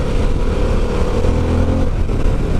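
A Harley-Davidson Pan American motorcycle engine pulls steadily while riding, a loud, continuous mid-pitched drone with wind rush and a slight rise in revs midway.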